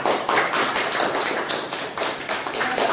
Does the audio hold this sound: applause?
yes